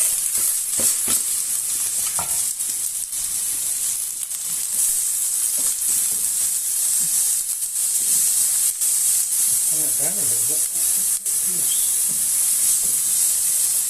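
Onions and chillies frying in olive oil in a pan, a steady close sizzle and hiss running throughout, with faint stirring clicks and a few soft background voices.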